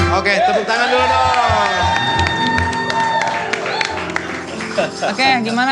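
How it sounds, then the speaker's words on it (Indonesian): Studio audience on an Indonesian comedy talk show clapping and cheering as guest Tora Sudiro is introduced. Loud cheers and shouts mix with clapping while music and voices run over it, fading slightly toward the end. "tepuk tangan dulu dong"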